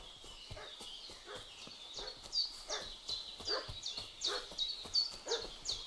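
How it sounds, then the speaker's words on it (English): A dog in the medieval video game Kingdom Come: Deliverance 2 barks repeatedly and excitedly at moderate distance, mixed with horse hoof clip-clops and ambient outdoor game sounds. "What's that dog making such a fuss about?"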